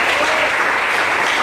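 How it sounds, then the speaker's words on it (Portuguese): A church congregation breaks into loud, dense clapping, a steady close roar of many hands with no pause. "Dê uma salva de palmas para Jesus."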